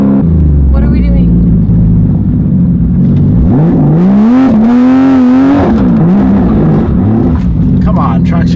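A modified Porsche 911 GT3RS with a very loud exhaust, its engine droning and then sweeping sharply up in revs and back down, close and overpowering, while people talk over it.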